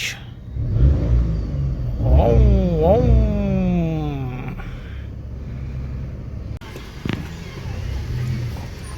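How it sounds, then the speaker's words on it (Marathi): A car engine cold-starts, cranking and catching, revving up with a rising whine before settling into a rumbling idle, with a voice speaking nearby. "थोडी गाडी कोल्ड स्टार्ट करतो"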